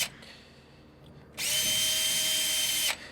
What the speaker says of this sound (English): you quite simply take your drill and just clean them out